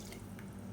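Heated water, about one and a half tumblers, pours into a pot of sautéed vegetables for biryani, a brief, soft splashing wash.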